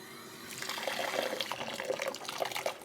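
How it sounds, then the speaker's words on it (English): Water pours steadily into seed-starting soil mix during winter sowing in an unheated greenhouse, a soft continuous trickle with light splashing and bubbling, fairly quiet and alone. "Add a little bit of water."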